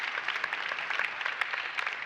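A conference audience in San Sebastian claps through the whole stretch, a dense, steady wash of applause with scattered sharper claps and no one speaking over it.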